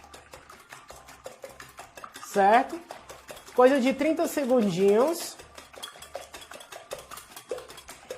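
Six free-range eggs are whisked in a bowl, a rapid train of light clicking strokes of utensil against bowl, continuous and close, with a person speaking over the middle section.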